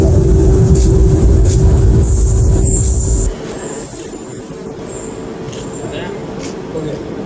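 A Nagpur metro train running at the Phase 2 launch, a loud steady rumble for about three seconds that drops away sharply, leaving quieter ambient noise and distant voices.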